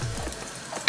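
Onion hits hot olive oil in a pan and sizzles briefly, a close, soft frying hiss with a small clatter at the end.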